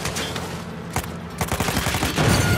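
Rapid bursts of gunfire from the Uncharted 4 video game, dense crackling shots and automatic fire layered with explosive thuds, loud and continuous throughout.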